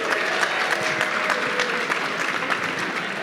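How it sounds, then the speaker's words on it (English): Conference audience applauding at a kickoff keynote, dense steady clapping from a large crowd, sustained for several seconds. "Round of applause, huh?"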